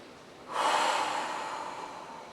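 A single deep breath during a guided leg workout, starting abruptly about half a second in as a loud, close airy rush that peaks and then slowly fades as a long exhale.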